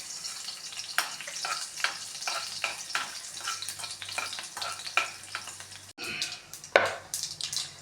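Tempering seeds crackle and sizzle in hot oil after garlic, with sharp pops scattered through a steady frying hiss and a brief clatter near the end.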